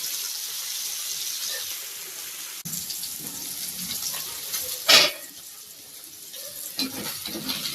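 Fish fry in a home kitchen: a steady broadband sizzle of fish in hot oil, with a louder sputtering burst midway and a few soft clinks, close and continuous with no talk.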